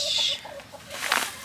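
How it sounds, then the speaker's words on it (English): Backyard chickens cluck in a short run of repeated calls, fairly close and moderately loud, followed by a brief burst of busier clucking or wing noise. "chickens are being so noisy right now"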